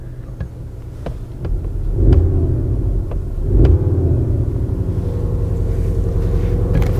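A 2021 Skoda Octavia RS engine turns over and settles into a steady low idle rumble, with a couple of brief surges, close by and continuous.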